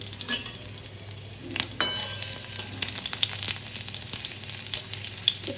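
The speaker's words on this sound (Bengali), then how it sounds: "রসুনটা এখানে একটু ফোড়নে দিয়ে দেবো।" Crushed garlic fries in hot white oil in a kadai, giving a steady close sizzle broken by a few sharp clinks and scrapes of stirring.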